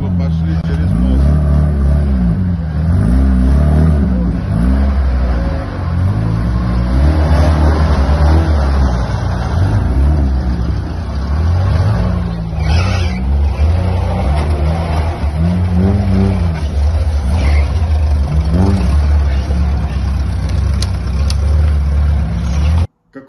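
Off-road vehicle engine droning and revving loudly and continuously while crossing a bridge during a muddy evacuation, with the engine up close and voices talking over it.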